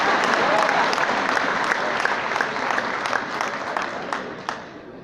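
A dense round of applause fills a graduation ceremony hall at the Palais des congrès, many hands clapping at once, loud at first and then thinning gradually toward the end.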